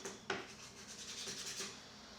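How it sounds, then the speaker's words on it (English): Wooden keys from a 130-year-old piano being hand sanded, a quiet, steady scratchy rubbing with faint rhythmic strokes, heard up close with no voices. "So I'm just about finished with the hand sanding"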